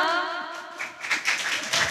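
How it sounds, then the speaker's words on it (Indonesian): Hands clapping from an audience at an Indonesian youth dialogue on anemia, a short burst of close, bright claps rising after a voice that fades out. "Oke, tepuk tangan dong."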